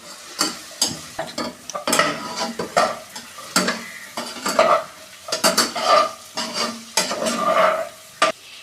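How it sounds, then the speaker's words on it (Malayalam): Fried soya chunks are stirred in a pan for a soya chilli fry, with a spoon repeatedly scraping and clacking against the metal over a light sizzle. The strokes come in uneven bursts, close and fairly loud, with no voices. "ഇതിലേക്ക് നേരത്തെ ഫ്രൈ ചെയ്ത സോയാബീൻ ഇതിലേക്ക് ഇട്ട് കൊടുക്കാം എന്നിട്ട് ഇതൊന്ന് നന്നായി യോജിപ്പിക്കാം"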